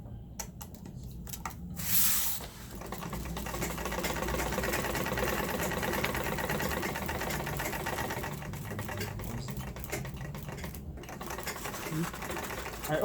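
A sewing machine stitches zigzag lines into paper in one fairly quiet, continuous whirring run, with a few clicks and handling noises at the start and near the end.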